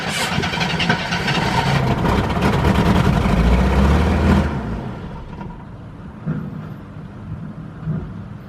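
A Jeep Cherokee Pioneer firing up from cold after 24 years: a loud, rough cranking and engine roar for several seconds that cuts back to a quieter, uneven idle with small sputters.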